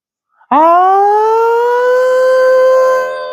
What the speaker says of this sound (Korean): 온 동사무소에서 뭐가 울린다? 사이렌이 울려요.